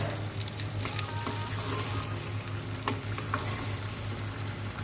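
Tomatoes cook with butter and garlic in a pan over medium-low heat, giving a continuous, even sizzle with faint stirring taps.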